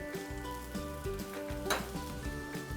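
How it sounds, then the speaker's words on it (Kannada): Singapore paneer noodles are stir-fried on high flame in a pan, making a brief crackling sizzle with light clinks of utensil against metal, over steady sustained tones. "ಇದು ಹೈ ಫ್ಲೇಮಲ್ಲೇ ಫ್ರೈ ಮಾಡಬೇಕು"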